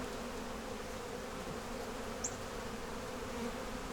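Honeybees hum at an opened hive during a queen check, a faint but continuous, even buzzing drone with no voices over it.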